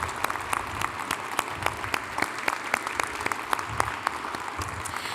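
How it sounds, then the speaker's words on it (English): An audience claps for award honorees at a ceremony, a steady round of applause with sharp individual claps standing out, fairly close and continuing without any voices. "Let's give another big round of applause for all of our recipients tonight."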